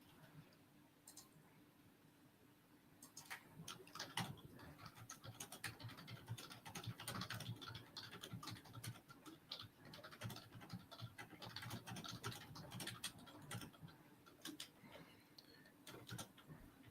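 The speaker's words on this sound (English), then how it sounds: "I'm typing a message that says that we're going live if anyone wants to come say hello" Quiet clicking of a computer keyboard as a message is typed, with irregular bursts of keystrokes and faint scratchy handling noise, close but soft, with no talking.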